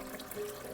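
Liquid nettle fertilizer is ladled and poured, leaving the solid green bits behind. It makes a brief, close splashing trickle with no talk.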